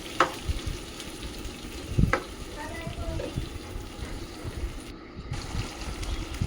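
Koi fish curry (tel koi) simmering covered in a pan with a little water, a steady bubbling sizzle with faint clinks and soft rustles throughout, moderately quiet.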